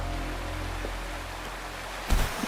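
A waterfall in the video game Wuthering Waves gives a steady, even rush of falling water for two seconds, followed by a louder thump and splash near the end.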